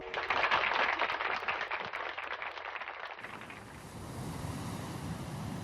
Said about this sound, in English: I was left with the sounds of the sea